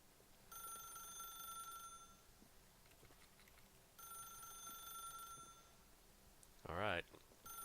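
A telephone rings in The Stanley Parable video game, two long bursts of bright ringing separated by a pause, followed by a short loud clatter.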